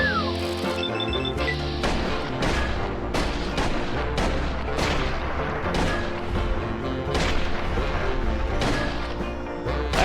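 Rapid pistol gunfire from a Fallout video game, including a .45 caliber auto pistol, with sharp repeated shots in quick succession over a busy game soundtrack, loud and close throughout.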